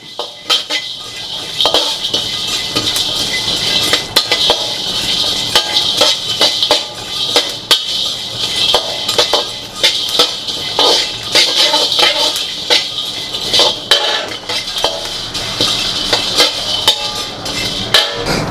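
Cumin and fennel seeds dry-roast in a pan for mutton kuzhambu, with a utensil steadily scraping and clinking against the metal in an unbroken, close, busy run of stirring.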